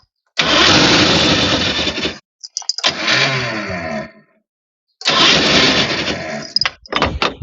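An outboard boat motor being started with repeated cranking bursts, three loud close attempts separated by pauses, ending in a short sputter.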